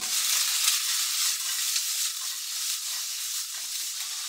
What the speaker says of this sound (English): and we'll let those fry and brown nicely